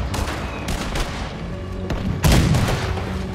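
Cannon fire booms in Red Dead Redemption 2 amid a rapid spread of gunshots, with a heavy, loud blast near the end over a continuous din of battle.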